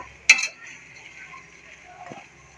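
A spoon clinks against a pot while rice and meat are stirred together for pulao, one sharp metallic knock followed by soft scraping and a faint sizzle, close up.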